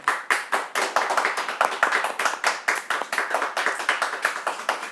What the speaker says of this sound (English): everyone here would like to give you a round of applause for what you've done over the years